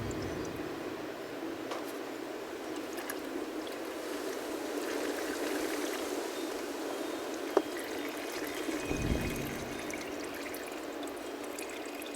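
Engine oil drains from the oil pan of a 2010-12 Lexus HS250h once the drain plug is out, a steady, even pouring stream with a faint clink partway through.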